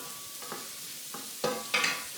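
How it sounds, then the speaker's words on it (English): Garlic cooking in a pot over medium-low heat for beef stroganoff: a soft, steady background sizzle broken by a few brief scraping stirs, the last two louder. "I got this simmering over medium to low heat"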